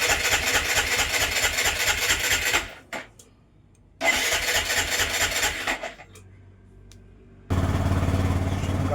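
A BS6 vehicle engine, which had shown a check engine light for a P0444 EVAP fault, starts and idles: loud cranking and running bursts broken by brief pauses, then it settles into a steady close idle. No talking is heard.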